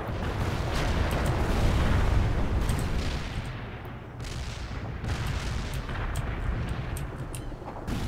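Artillery barrage in the World in Conflict strategy video game: a dense, continuous rumble of overlapping blasts and booms, loud and sustained, briefly easing mid-way before rolling on with scattered sharp impacts.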